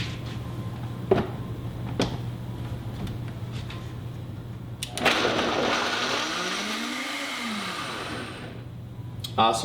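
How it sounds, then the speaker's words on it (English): A KitchenAid Pro Line blender motor whirs steadily, then surges louder and rougher about halfway through before easing off near the end. "this blender runs constant and the Vitamix runs in pulses"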